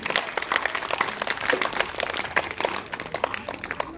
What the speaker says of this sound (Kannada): ದಯವಿಟ್ಟು ಜೋರಾಗಿ ಚಪ್ಪಾಳೆ ಮುಖಾಂತರ ಅವಳನ್ನು ಸ್ವಾಗತಿಸಬೇಕು